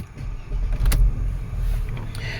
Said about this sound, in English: So let me start the car again.